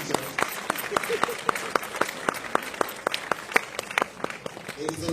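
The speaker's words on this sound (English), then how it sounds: "Yes, you may applaud all new teachers." An audience at a school-year opening ceremony applauds new teachers with sharp, distinct claps and sparse rhythmic hand strikes, steady and moderately loud throughout.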